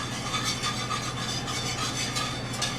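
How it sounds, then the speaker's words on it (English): A metal whisk scrapes and stirs against the bottom of a pan over medium to medium-low heat, a steady rasping rub with soft rhythmic strokes, close and continuous. "as you pour this in with a metal whisk, I'm just trying to pull up all of the bits on the bottom of the pan"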